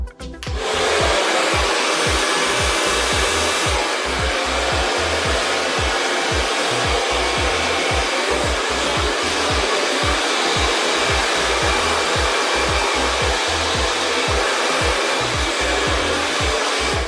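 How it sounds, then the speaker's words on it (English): A hair dryer runs continuously on high heat at full power, a loud steady whoosh with a rhythmic low fluttering as it is moved slowly back and forth. "I'm gonna move slowly with my blow dryer."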